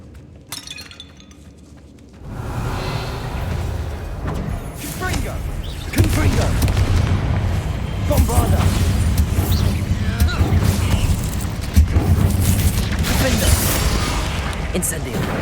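Confringo fire-blast spell explosions in the Hogwarts Legacy video game: after a brief quieter opening, loud booming bursts with glassy crackle and debris rattle build into a dense, sustained barrage of impacts.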